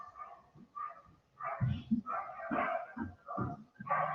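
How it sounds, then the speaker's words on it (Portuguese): Dogs bark in the background, a few scattered woofs and yips mixed under a person talking steadily in the foreground. "Gente, olha os cachorros."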